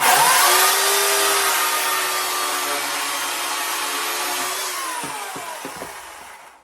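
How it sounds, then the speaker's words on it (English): A chainsaw's loud, high-pitched motor roars steadily while cutting a mannequin, then winds down and falls silent, with a few knocks as the whine tapers off. "why you use a chainsaw"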